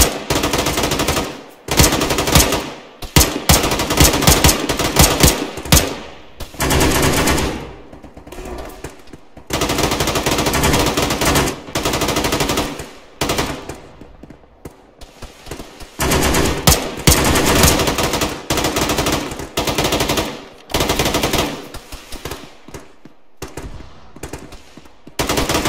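Machine gun fire in a shooter game comes in long, loud bursts of rapid shots, broken by brief pauses and restarting again and again over about twenty-five seconds, with no talk.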